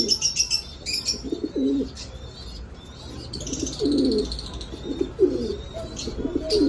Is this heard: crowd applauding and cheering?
no